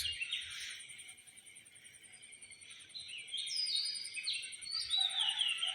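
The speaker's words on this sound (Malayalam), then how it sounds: "നല്ല കിളികളുടെ സൗണ്ടും ഒക്കെ കേൾക്കുന്നുണ്ട്" Birds sing at daybreak, with varied chirps and whistled phrases at moderate distance over a continuous high, pulsing insect buzz and quiet room tone.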